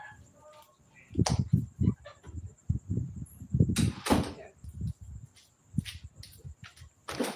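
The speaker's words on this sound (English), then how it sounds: "Wait, I'll just close this door." A door is pushed shut indoors during a live stream, with several close, heavy thuds and rattles spread across the clip and a steady high tone in the background.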